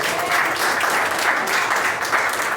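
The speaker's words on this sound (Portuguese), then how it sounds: "Vamos aplaudir, irmão" Congregation applause during a church service, steady dense clapping throughout, moderately loud and close, with no talking over it.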